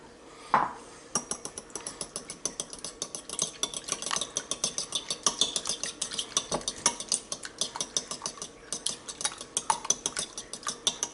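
A fork beats egg and milk together in a bowl, a fast steady clatter of metal tapping and scraping against the dish, close and continuous for several seconds with no talk.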